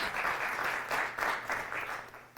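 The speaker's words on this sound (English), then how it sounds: "Can we please give a round of applause?" An audience at a talk on women and NDAs in the workplace gives a round of applause, a fairly close, steady wash of clapping that swells in pulses and carries on without speech.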